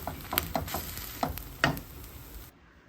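Eggs frying in a pan, a soft sizzle broken by several quick scraping stirs, close and fairly quiet, then cutting off near the end.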